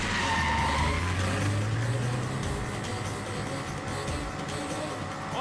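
A car turns fast with tires skidding, a loud continuous screech over engine roar that holds steady throughout, close and dense.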